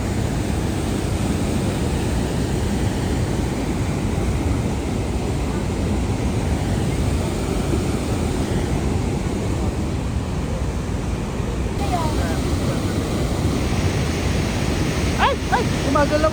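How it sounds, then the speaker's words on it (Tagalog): Broad steady rush of flowing water from a lake or river along a road trip toward Jasper, Alberta, continuous and fairly loud throughout, with brief faint speech-like sounds near the end. "Ayun, ang water."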